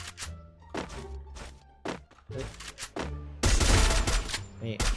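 Free Fire gunfire from a Palafal weapon with the Lore Cyclone skin: several punchy separate shots, then a dense, loud burst of rapid fire near the end, heard close up.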